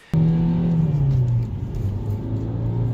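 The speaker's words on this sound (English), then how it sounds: "Roar of that powerful engine." A Vauxhall Astra Sports Tourer engine revs up with a sharp start, holding a throaty rising tone before settling into a steady lower drone.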